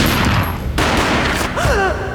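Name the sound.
gunshot in Max Payne video game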